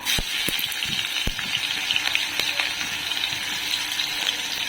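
Chopped onions hitting hot oil with cumin seeds, bay leaf and whole spices, giving a broad steady sizzle with a few sharp pops and crackles, close and loud without any talk.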